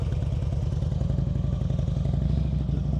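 A motorcycle creeps along at slow speed and comes to a stop without the rear brake, its engine a steady close low rumble with a faint rhythmic clatter throughout.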